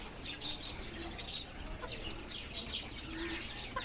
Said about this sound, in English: As you can see, this is new coop of chicken,